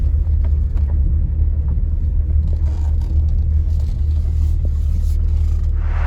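A car drives at night on newly fitted Mictuning J1 seven-inch round headlights, heard as a steady, loud, low cabin rumble of engine and road noise with faint scrapes over it.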